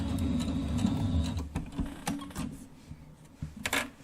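A sewing machine back stitches pieced quilt blocks for a Kimberbell Main Street Celebration pillow wall hanging, close up, with a quick uneven run of mechanical clicks and short needle bursts.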